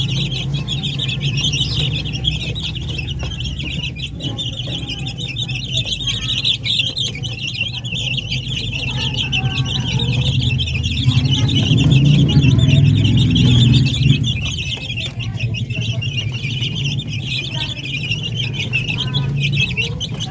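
Native chickens and week-old chicks under a brooder light cluck and peep steadily in a continuous farmyard chorus, with a slightly louder, closer stretch in the middle.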